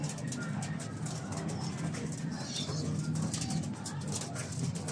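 Pigeons coo softly in a coop where young birds are kept, a low repeated cooing under steady background noise, moderately near.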